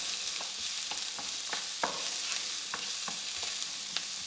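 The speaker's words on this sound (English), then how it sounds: "And just let that fry up." Garlic, red onion and mixed herbs sizzle steadily in a pan, with a soft, even hiss. A utensil knocks and stirs through it in irregular light taps, fairly quiet, with no voices.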